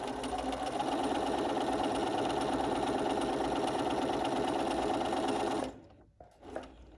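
A Bernina sewing machine stitches a face mask in one steady, close, loud run of rapid needle hum, then stops abruptly near the end, leaving a brief quiet stretch with a small soft knock.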